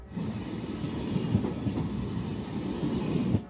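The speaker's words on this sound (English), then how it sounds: "These trains are high speed in the tradition of the French TGV." A high-speed Eurostar train running between London and Paris rumbles past steadily, a loud continuous roar of rail noise with faint rhythmic wheel clatter throughout.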